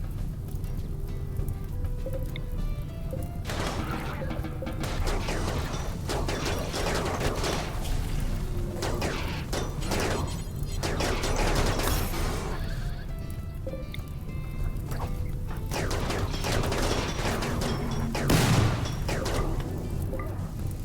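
Gunfire crackles through a RimWorld battle against a Militor and centipedes, with repeated bursts and impacts layered over a steady low game rumble, loud and continuous without any talk.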